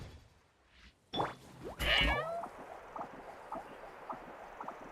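Kirara, the cat character in Genshin Impact, gives short in-game meows, a bright tonal call with a bouncy springy sound beside it. Soft, evenly spaced game sounds tick along quietly afterward.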